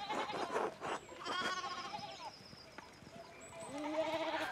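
Sheep bleat repeatedly in the video game Pentiment, set in a Bavarian village in 1518, with several wavering calls close by over a busy game soundscape and some speech.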